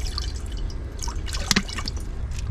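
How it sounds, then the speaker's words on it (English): Water pours into a large cooking pot, a continuous close trickling and splashing with small drips and gurgles, plus one brief louder knock partway through. "we're going to get our water into a large pot and bring some water to a boil."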